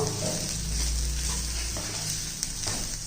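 Grated coconut sautés in a hot pan with onions, a steady close sizzle with faint stirring scrapes throughout, no talking.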